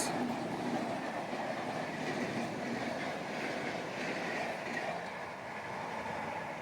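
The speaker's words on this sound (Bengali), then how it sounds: "এদিক দিয়েও একটা এক্সপ্রেস যাচ্ছে এটা হলো পুরী নিউ দিল্লি নীলাচল এক্সপ্রেস" The Puri–New Delhi Nilachal Express rumbles past steadily on the rails near Dantan station, a continuous broadband roar with faint rhythmic clatter, close and fairly loud throughout.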